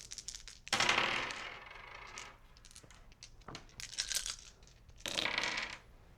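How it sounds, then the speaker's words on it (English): Dice rolling during a tabletop board game session, heard as three separate bursts of clattering rattle, each tumbling briefly before settling, close and fairly quiet. "Let's roll our dice."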